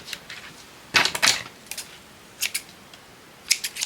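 Scissors snipping off thread, several short crisp metallic cuts in small clusters, close and fairly quiet with pauses between.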